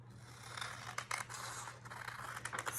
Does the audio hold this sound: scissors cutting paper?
yes